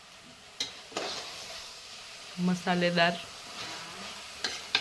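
Vegetables, rice and noodles fry and get stirred in a home kitchen pan: a soft sizzle under sharp utensil scrapes and clinks, plus a brief burst of louder frying in the middle. Someone speaks briefly.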